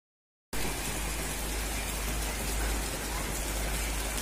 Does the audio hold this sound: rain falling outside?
yes